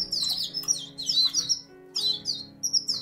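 A male songbird sings in repeated bursts of high, bright chirping phrases, close and clear over a steady low hum.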